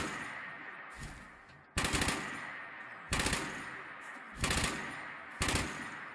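Automatic gunfire in Fallout 76 fires at a fleeing enemy in four sharp, loud bursts, each a tight rattle of shots spaced about a second apart, with quieter game ambience between them and no talking.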